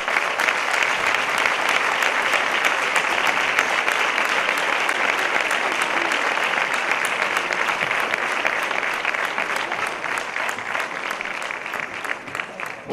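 Sustained applause at a sports gala honouring young athletes from local sports schools, a large audience clapping densely and continuously, easing slightly toward the end.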